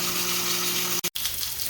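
A pork roast browning in a hot pan, a steady close sizzle and crackle of searing meat, cut by a brief sharp break partway through before the frying hiss resumes.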